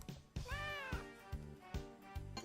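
A cat meows clearly and close up in a few drawn-out, rising calls, then soft mouth and movement sounds.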